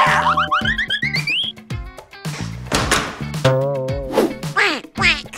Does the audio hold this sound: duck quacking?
yes